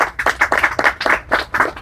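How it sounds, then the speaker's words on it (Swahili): A parents' meeting audience claps in quick, uneven bursts, a handful of nearby hands beating a loose rhythm of sharp, close slaps for a couple of seconds. "Jipigeni hata makofi tafadhali."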